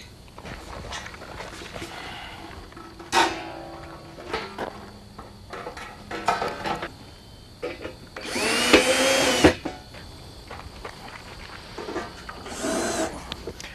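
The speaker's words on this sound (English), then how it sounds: "Then fasten the top plate to the vertical with 3 self-tapping screws." A power drill drives self-tapping screws into the steel verticals of a round above-ground pool, heard as several short whirring bursts, one longer run near the middle and another toward the end, over quiet background.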